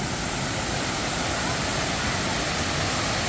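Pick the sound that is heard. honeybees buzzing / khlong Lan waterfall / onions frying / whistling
khlong Lan waterfall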